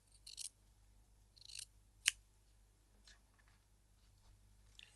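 Scissors trim excess fabric from a stitched bias tape seam, giving a few quiet, crisp snips spaced across a hushed room, with one sharper cut standing out.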